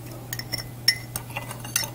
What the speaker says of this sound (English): I'm just going to mix that up